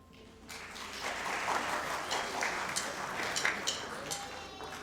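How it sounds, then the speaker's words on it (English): A school concert audience at Forsan Junior High claps in sustained, dense applause that swells after a brief quiet start and continues steadily, with scattered sharper claps standing out. "give yourselves a round of applause for that"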